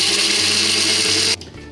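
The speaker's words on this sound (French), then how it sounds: "Et hop, on mixe tout ça." Kitchen blender whirring loudly as it purées a vegan bisque, a dense steady motor roar that cuts off abruptly near the end, leaving a low hum.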